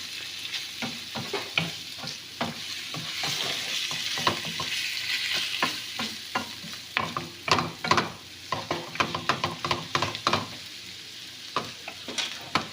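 Pork adobo Chinese style sautés in a pan, with steady sizzling and frying under repeated scraping, stirring clatters of a utensil, close and fairly loud.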